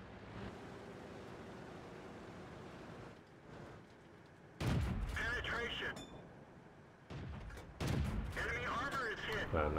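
Bursts of M8 gunfire from a video game crack out in two loud clusters over a steady background rumble, while players talk between the shots.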